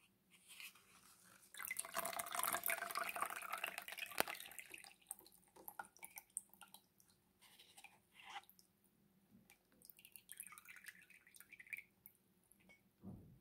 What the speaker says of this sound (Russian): И сейчас просто берем вот так и сливаем всю лишнюю воду